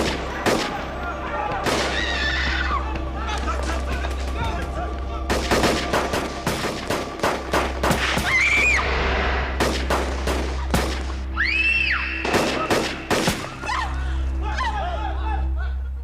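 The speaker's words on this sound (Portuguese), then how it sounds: "é a cena do tiroteio, onde o Theo e a Fernanda são baleados no Leblon." A shootout scene from a Brazilian TV drama set in Leblon, Rio de Janeiro, brings repeated bursts of close, loud gunfire, some rapid like automatic fire, broken by short pauses, with voices and shouts among the shots.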